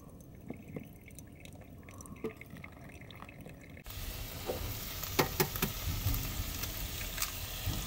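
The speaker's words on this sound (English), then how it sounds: "So we're gonna be frying up some stuff from last night." Reheated leftovers fry in a pan inside a van, the sizzle growing louder halfway through as food hits the hot surface, with scattered pops and stirring scrapes.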